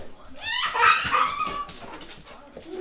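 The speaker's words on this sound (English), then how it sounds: "Is he a silly dog?" A dog named Maxie whimpers and yips in high, wavering whines, close by and moderately loud, with a person talking faintly around the sounds.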